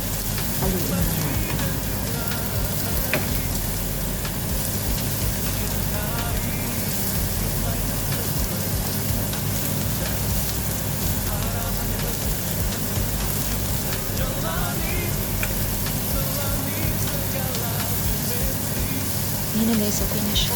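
Vegetable ukoy fritters sizzle and crackle steadily in hot oil in a pan while being stirred, a constant dense frying hiss close by, with a person talking over it throughout.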